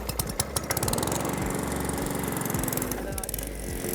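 A Cobra M46CVX lawn mower engine catches after a recoil pull, sputtering through a few uneven bursts before settling into a steady, throbbing run close by, with a voice faintly audible underneath.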